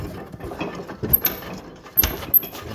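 A garden tractor's parking brake and gear shift lever being worked by hand: close metallic clicks, ratchet-like snaps and clunks at irregular moments over a soft background.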